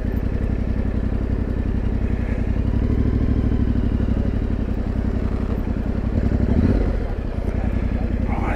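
An adventure motorcycle rolls in and parks, its engine a loud, close, steady chugging rumble that dips briefly near the end, with the rider's voice faintly mixed in.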